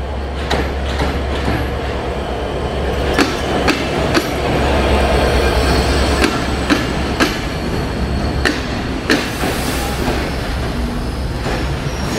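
The Banglabandha Express, an intercity passenger train of old coaches, rolls into Natore station in Bangladesh with a loud, steady low rumble and rhythmic wheel clatter on the rails, close by and without talk.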